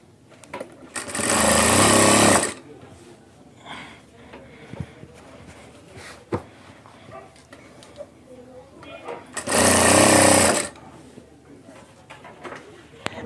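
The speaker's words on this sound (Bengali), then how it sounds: "এখন আমরা এই সাইডটা সেলাই করব" An electric sewing machine stitching pillow cover fabric runs in two loud, steady whirring bursts of about two seconds each, separated by a quieter stretch of handling noises and a person talking.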